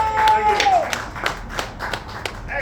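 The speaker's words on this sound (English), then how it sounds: "Please clap, give him the same warm welcome you did to everyone else." An audience at a comedy club's Dead Funny night claps to welcome comedian Owen P to the stage, a close burst of scattered hand claps that thins into separate claps, with a brief tone at the start.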